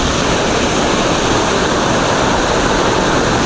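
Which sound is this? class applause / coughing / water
water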